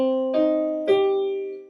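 A sustained minor triad rings out on a keyboard, then is struck again a moment later, the tones fading slowly afterward.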